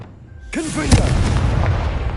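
A Confringo spell bursts in Hogwarts Legacy, a sharp booming blast right after a shouted incantation, followed by a rumbling, crackling tail that fills the rest of the moment.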